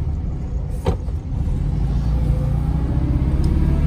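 A 1970 Volkswagen Beetle driving, its engine giving a steady low rumble from inside the car, loud and continuous, with a couple of brief knocks near the start.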